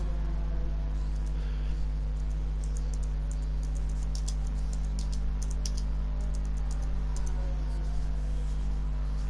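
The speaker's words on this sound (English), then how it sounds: "my fat fingers, stop typing" Rapid typing on a computer keyboard carries on steadily for several seconds, with scattered light key clicks over a constant low electronic hum during a racing-game qualifying stream.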